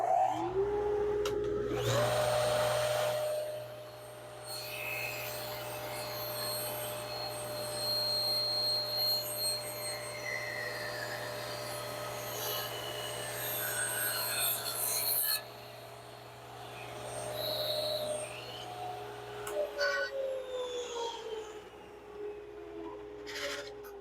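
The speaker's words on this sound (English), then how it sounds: "I'm going to activate my two-stage dust collection system and show you how easy it is to cut thin strips with a jig on the table saw" A table saw rips thin 3/8 inch wood strips using a simple jig, with a two-stage dust collection system roaring steadily throughout; the motor hum and rushing air stay loud and continuous, with the cut rasping faintly underneath.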